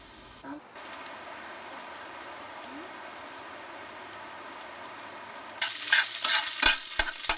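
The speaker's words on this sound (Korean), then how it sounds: "그날 저녁 부엌에서 지지고 볶는 소리가 요란하다" Food sizzles and fries steadily in a home kitchen pan one evening, then louder stirring and clattering of utensils joins for the last couple of seconds.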